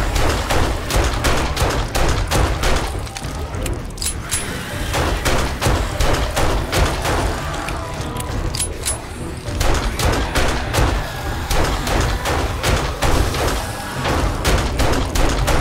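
In the 7 Days To Die video game, pistol shots fire rapidly and steadily for the whole stretch, sharp repeated cracks over a dense, constant combat background, with no voices.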